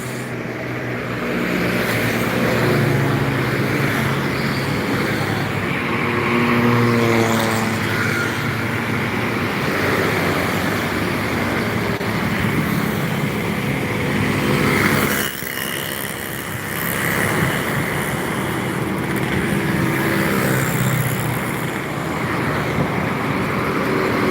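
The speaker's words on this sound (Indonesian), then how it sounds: "Tentang bus dan truk yang melintas." Heavy road traffic on the Jalan Lintas Timur highway near Palembang, with buses and trucks passing: a loud, continuous engine roar and tyre rumble that swells and eases as vehicles go by, with no talking.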